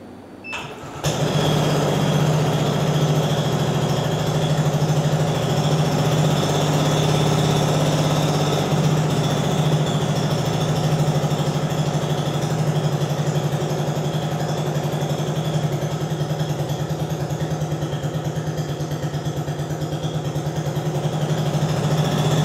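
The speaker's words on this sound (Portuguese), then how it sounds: "Eu vou ligar o translúcido para vocês terem uma ideia do que é um motor a combustão interna funcionando." A small translucent model internal combustion engine starts and runs continuously at a steady idle, with a buzzing mechanical hum and rapid regular chatter throughout.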